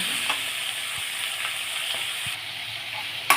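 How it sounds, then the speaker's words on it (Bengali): Vegetables with salt, slit green chillies and turmeric fry in a pan for vegetable khichuri, a steady close sizzle with faint stirring scrapes and no voices. "এরপরে দিয়ে দেব পরিমাণ মতো হলুদ গুঁড়ো, দিয়ে তরকারিটা সুন্দর করে ভেজে নেব।"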